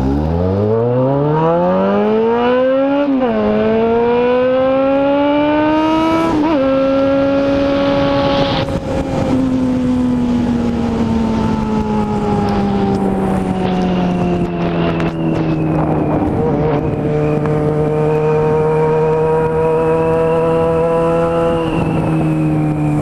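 A Yamaha XJ6 motorcycle races a Kawasaki Ninja on the road, its engine loud and close as it revs and climbs through gears with rising whine, a brief dip at each shift, then holds a steady high-speed drone over wind noise.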